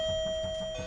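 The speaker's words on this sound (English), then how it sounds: "You actually brought in a doorbell." A doorbell rings once with a single clear electronic chime that holds steady for about a second against a quiet room.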